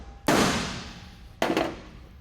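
Two sharp hammer blows on a rotted 1970 Dodge Challenger roof panel being fitted into place, the first at about a quarter second and a second a little over a second later, each ringing briefly and fading.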